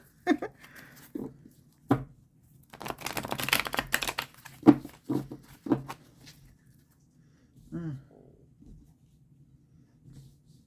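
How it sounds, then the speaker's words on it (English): Bursts of riffled tarot card shuffling, a few quick crisp flutters separated by pauses, with brief softer handling noises in between. "I'm gonna shuffle these cards on camera."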